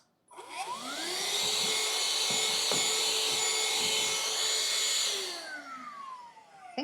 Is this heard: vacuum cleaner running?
yes